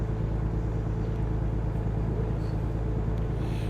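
In American Truck Simulator, a truck's engine drones loudly and steadily as it climbs hills, a constant low rumble with no breaks or voices.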